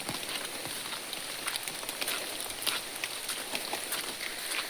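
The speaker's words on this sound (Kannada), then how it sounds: "ಈಗ ಕೂಡ ಹನಿತಾ ಉಂಟು ಸಣ್ಣಕ್ಕೆ ಮಳೆ" Soft, quiet patter of light rain falling steadily, with scattered faint drips and no voices.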